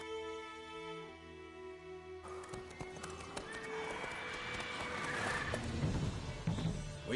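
Roach, a horse in The Witcher 3, gives a drawn-out tonal whinny, then trots off with a busy run of hoof clip-clops mixed with louder game ambience.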